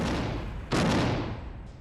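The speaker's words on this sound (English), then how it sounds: "you didn't move a muscle when shooting. Well, it's a shotgun." A pump action shotgun fires once: a sharp loud blast after a steady background roar, decaying over about half a second, with a faint click at the end.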